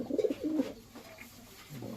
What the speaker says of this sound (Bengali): তো অনেক সুন্দর একটি কবুতর, কিন্তু অসুস্থ।